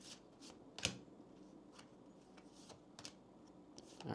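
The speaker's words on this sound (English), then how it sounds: "I'll start off by pulling some oracle cards" Oracle cards being shuffled and drawn close by, soft papery flutters and slides in scattered bursts, one sharper snap of cards near the start, quiet room and no speech.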